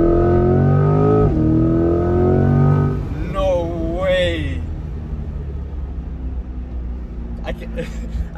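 Chevrolet Corvette C8 engine revving hard from inside the cabin, a loud rising roar with shifting harmonics for about three seconds before settling into a steadier, quieter drone with road rumble.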